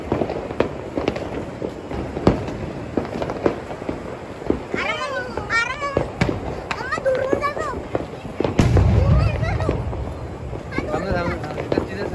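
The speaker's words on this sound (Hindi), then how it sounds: "पटाखे फोड़ने का मजा नहीं आ रहा था" Firecrackers burst at a Diwali celebration in India, sharp scattered pops and cracks over a steady noisy background, with children and other people talking and calling out throughout.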